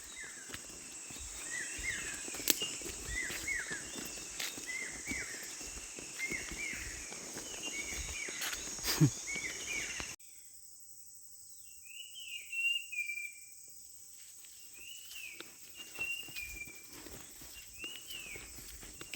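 Wild birds in forest beside the Narmada river sing a run of short repeated whistled chirps at moderate distance, over a steady hiss of flowing water and insects, with a faint rustle of footsteps.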